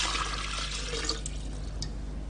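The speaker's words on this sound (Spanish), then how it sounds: "Cogió una botella de cristal y la llenó de agua." Water poured into a glass bottle, a steady liquid rush and gurgle with a few drip-like splashes, close and continuous.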